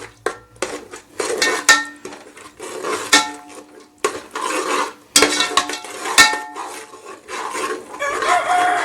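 Yogurt being stirred into masala in a metal pot for Thalappakatti-style chicken biryani: a spoon scrapes and clanks against the pot in irregular close bursts, loud and alone.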